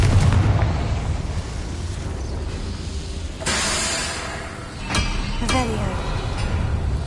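The explosive Confringo spell is cast in the video game Hogwarts Legacy, giving loud booming blasts over a dense rumbling battle din, with two sharp, crackling detonations close together toward the end.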